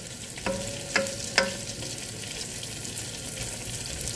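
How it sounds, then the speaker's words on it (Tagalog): Tofu frying in a pan hisses with a steady close sizzle, broken early by three sharp spatters or clinks. "Yan po ang ating tokwang try iprito."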